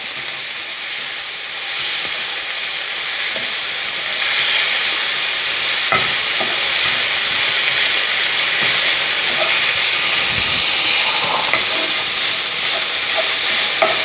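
Garlic and ginger fry in a pan for a mapo tofu, giving a continuous loud sizzle and hiss with occasional scrapes and clinks of stirring, no one speaking.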